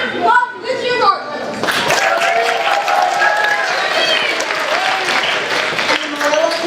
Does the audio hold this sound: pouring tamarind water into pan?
no